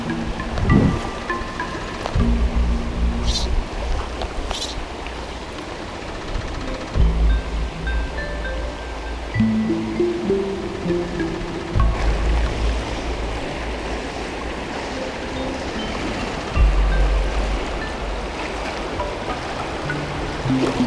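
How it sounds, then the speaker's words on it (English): Fast-running water of the Jeremy River, a New England trout stream in springtime, rushing continuously and loudly close by, with a few low thumps and knocks over the steady flow and no talking. "With how fast this water is running"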